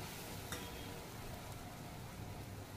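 A mix of chilli, turmeric and coriander powder is stirred in a pan for bendakaya pulusu, a quiet, continuous scraping with a soft sizzle and one small clink.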